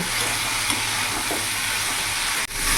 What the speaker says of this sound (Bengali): এবার ভেজে রাখা আলু ফুলকপিগুলো দিয়ে দেবো ভালো করে মশলার সাথে মিশিয়ে নেব